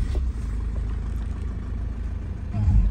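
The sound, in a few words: Lexus IS220D engine starting and idling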